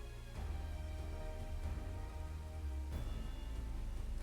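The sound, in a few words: rain falling in Garlemald, from the video game Final Fantasy XIV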